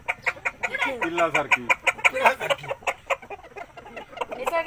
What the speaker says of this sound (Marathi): किती सुंदर ती कोंबड्या